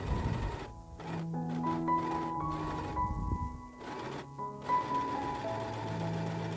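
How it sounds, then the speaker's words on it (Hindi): A domestic sewing machine runs in a series of motor bursts with short pauses while double-stitching a palazzo trouser seam, the whirring close and steady without any talk. "अब यहाँ भी मैं डबल सिलाई लगाऊंगी।"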